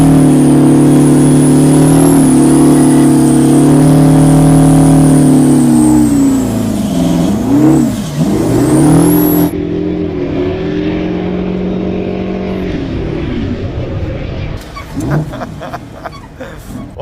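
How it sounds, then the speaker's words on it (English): A giant semi-truck pulls a big smoky donut burnout: a loud, sustained engine roar with shifting pitch and revving swells, followed by a tire screech and rougher engine noise as it winds down. Voices are heard over the engine. "taking the giant semi-truck and doing that big donut at the end"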